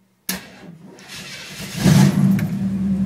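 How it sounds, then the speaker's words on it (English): A car engine cranks and fires up, settling into a steady run before revving higher with the gas pedal pressed; close, loud and alone, with no talk. "starting the car for the first time"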